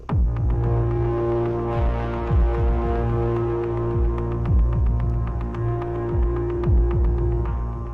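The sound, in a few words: long sustained synth sound usable as kick drum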